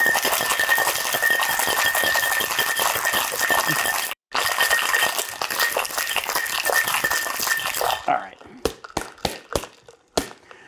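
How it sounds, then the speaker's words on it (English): A cocktail shaker tin holding mint and gin is shaken hard and fast, its rhythmic rattling and clinking running for about eight seconds, then a few separate sharp knocks follow. "So we're gonna add it to our tin and give it a nice shake."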